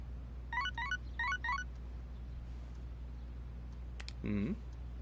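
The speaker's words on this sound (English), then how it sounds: "I got a text message." A text message notification in Persona 3 Reload plays as quick electronic chirp sequences, three short bursts in close succession, followed a moment later by a brief tonal blip against a quiet background.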